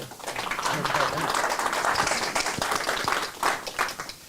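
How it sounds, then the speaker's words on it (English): Audience applause at a startup pitch day event, a steady wash of clapping from a room of people lasting several seconds, with a few sharper individual claps standing out near the end. "Please give a round of applause for."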